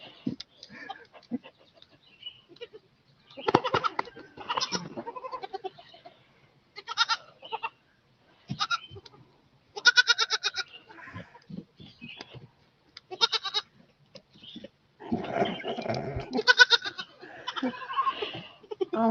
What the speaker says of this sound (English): That would be me, man, if I was a baby goat.